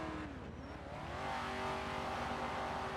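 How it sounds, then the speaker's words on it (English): A loud car engine revs hard and steadily, its rising and falling drone filling the whole stretch with no voices over it. "What a loud ass car, dude."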